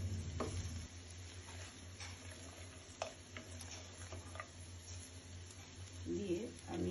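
Fried soybean chunks and fried paneer are tipped into a frying pan for navratan biryani, bringing a low sizzle with scattered clicks and scrapes of stirring, then a louder burst of frying near the end, close and steady.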